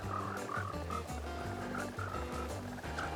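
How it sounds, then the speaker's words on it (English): A dense chorus of many frogs croaking together in Minecraft, overlapping low rhythmic croaks repeating steadily and close, filling a small room with no voices. "I'm breeding the perfect amount of frogs that could fit in this room."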